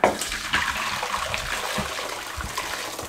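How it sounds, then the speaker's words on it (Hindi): Cucumber, mint and lime juice strained through a strainer into a bowl, a steady splashing trickle of liquid heard close up for a few seconds. "इसको अच्छे तरीके से छान लेंगे"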